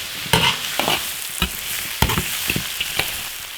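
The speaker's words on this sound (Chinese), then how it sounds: "调料炒入味" Seasonings, including Sichuan peppercorns, are stir-fried in an iron wok: a soft continuous sizzle broken by sharp scrapes and clacks of the spatula against the metal every half second or so.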